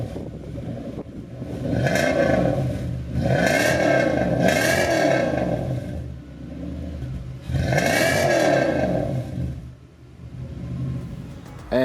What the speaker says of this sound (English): It has a custom exhaust with a built-in leak feature that's barely noticeable.